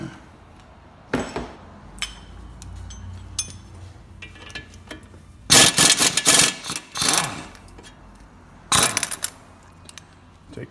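An impact wrench removes the 19 mm strut-to-knuckle bolts on a first-generation Honda Insight, with several loud close rattling bursts of varying length separated by quieter clinks and shop noise.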